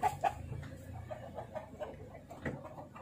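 A chicken clucks a few short, soft times at a distance, with low background rumble throughout.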